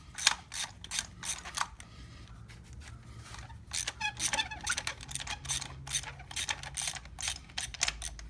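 Ratchet turning a socket on an extension to remove spark plugs from a Chevy Cruze, close bursts of rapid clicking pawl strokes with short pauses between runs, no voices.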